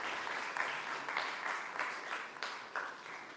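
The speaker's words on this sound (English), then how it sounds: "Can we have a round of applause?" Quiet, distant applause from an audience at a hackathon event, a soft patter of clapping with a few sharper bursts, heard throughout with no voices.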